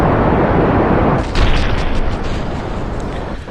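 Overheating solid fuel rocket boosters blow apart in Kerbal Space Program, a loud, dense booming roar that lingers as a rumbling wash throughout, with a sharper burst partway through.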